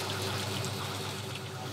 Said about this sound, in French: Machine to press coconut milk.